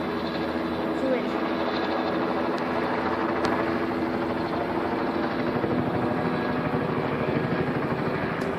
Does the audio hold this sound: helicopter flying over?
yes